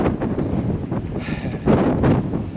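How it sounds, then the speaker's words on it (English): Wind blowing on a clifftop above the beaches of Lagos, Portugal, loud gusty buffeting across the microphone in uneven bursts, brief and close. "Ooh, it's windy up here."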